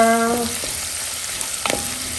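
Ginger goes into a hot pan for a crab sotanghon soup and sizzles with a close, steady crackle. A brief louder burst of frying and stirring comes near the end.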